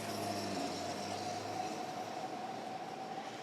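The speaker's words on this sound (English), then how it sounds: "The train just going past." An MRT train passes the elevated track beside Yishun station in a residential part of Singapore, a steady rumbling rail roar with a faint high squeal, continuous and moderately distant for the whole stretch.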